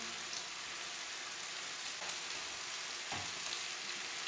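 Steady, close sizzling of chicken frying in a pan, a dense crackling hiss that runs unbroken throughout with no voices.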